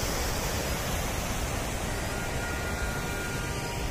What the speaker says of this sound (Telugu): చక్కటి జలపాతాలు.